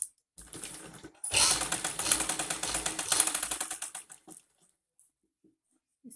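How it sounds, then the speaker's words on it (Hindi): A sewing machine stitches a chanderi salwar in a close, rapid run of ticking mechanical bursts lasting about three seconds, then stops into quiet. "देखिए आसन को आसन के साथ रख के अब इसके ऊपर हम सिलाई लगाएंगे।"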